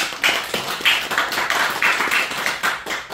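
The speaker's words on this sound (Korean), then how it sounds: "박수." Church congregation clapping during a Sunday worship service, a loose rhythmic series of about a dozen fairly close hand claps, moderate in volume with no talking.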